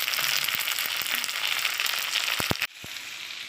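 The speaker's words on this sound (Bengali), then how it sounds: "তো দেখো পেঁয়াজটা ভাজা হয়ে গেছে, এরকম ভাজতে হবে।" Chopped onion, tomato and slit green chilies sizzle in oil in a pan, a steady bright frying hiss with a few sharp clinks from a utensil before the sizzle drops quieter near the end.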